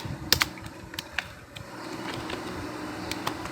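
Fingers tap on a computer keyboard in short irregular bursts of clicky keystrokes, close and moderately loud, with a few sharper key hits early and a low room hum underneath; no one speaks.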